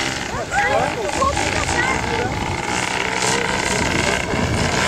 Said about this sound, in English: that engine just pulling on the prop